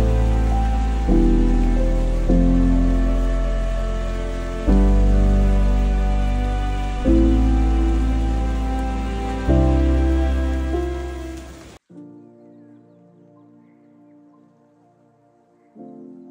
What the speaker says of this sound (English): started belting down with heavy rain.